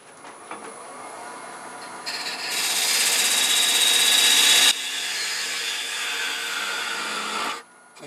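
A wood lathe turns a large Norfolk Island pine spindle under a parting tool taking a peeling cut: a loud, continuous scraping rasp that swells midway, then eases and stops, close up with no talk.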